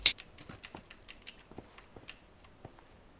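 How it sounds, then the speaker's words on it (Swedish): Rain falling in PUBG, heard as faint, scattered pattering drops ticking irregularly across a few seconds, soft and close with no steady downpour roar. "Det är fan irriterande när det regnar."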